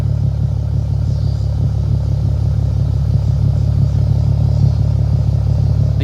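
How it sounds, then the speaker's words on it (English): A 2004 Chrysler Crossfire idles with a steady, low rumbling drone, its exhaust note even and continuous through the stock muffler with welded tips, loud and close with no voices. "Get a nice little idle."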